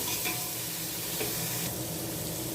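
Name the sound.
mint leaves sautéing in a pan for tomato rice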